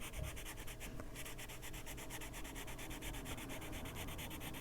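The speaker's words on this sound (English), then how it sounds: "You can hear how smooth these go down, which is really nice." Colored pencils in a turquoise shade scratch steadily across paper while a dragonfly picture is coloured in, a close, continuous dry rubbing with quick back-and-forth strokes and no voices.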